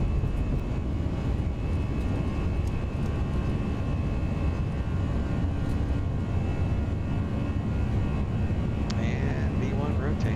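Twin jet engines of an Airbus A320 in the X-Plane 11 flight simulator roar at takeoff power, a steady, loud broadband rumble and hiss that holds unchanged throughout.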